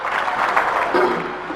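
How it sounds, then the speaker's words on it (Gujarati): A crowd at a Kunkavav family community gathering in Surat breaks into a short, steady round of clapping to honour a donor, with a faint voice underneath. "આપણે સૌ તાળીઓના ગડગડાટથી નાગજીભાઈને વધાવીએ"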